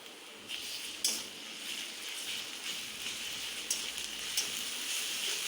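Garlic goes into mutton browning in a pan for Bengali mutton kosha, producing a faint, even, rain-like hiss with a couple of soft clinks from the pan.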